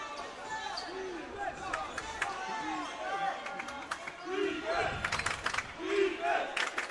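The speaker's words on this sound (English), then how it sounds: "you can hear the crowd yelling defense here at the Falcons' Nest" Basketball crowd at a home grand final game yelling defense in rhythmic chants, moderately loud and somewhat distant, with sneaker squeaks and a commentator talking over it.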